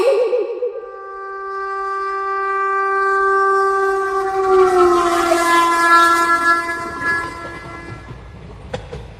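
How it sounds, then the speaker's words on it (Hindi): A cartoon train arrives with a long, loud horn blast that swells and holds for several seconds, then fades into a rolling rumble of wagons and ends with a sharp clack. "वो देखो, आ गई ट्रेन। चिंटू, ट्रेन आ रही है।"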